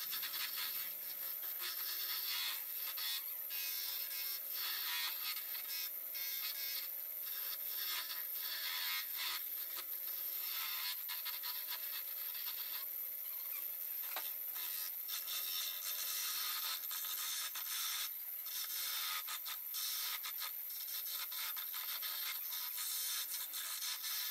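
A wooden Christmas tree being shaped on a lathe while the final details are turned in, giving a steady, close scraping and rubbing of tool against spinning wood that runs unbroken and fairly loud throughout, with no talk.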